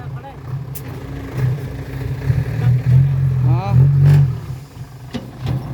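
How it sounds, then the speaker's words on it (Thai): Tractor engine revs up and down while pushing a vehicle stuck in mud, a loud close-up rumble rising in bursts, with people talking over it. "นี่ก็รถไถดันครับ"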